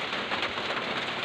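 Water leaks and drips steadily in a kitchen, a dense pattering wash like rain on a hard surface, close and continuous.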